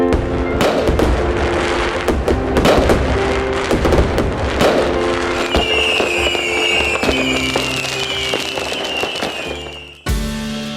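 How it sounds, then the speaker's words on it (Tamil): Diwali firecrackers explode in a loud, relentless barrage of crackling bangs and thumps, later joined by rising whistles, with no talk. "ரகரகமான பட்டாசுகள்"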